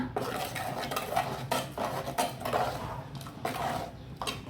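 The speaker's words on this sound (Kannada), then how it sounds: "ಚೆನ್ನಾಗಿ ತಿರುಗಿಸ್ಕೊಳ್ಳೋಣ." A spoon stirs onion and ginger seasoning in a pan for Mangalore-style pomfret fish gravy, with continuous scraping and clinking against the metal in steady repeated strokes, close and fairly loud.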